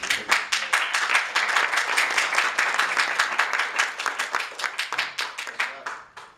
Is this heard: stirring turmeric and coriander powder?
no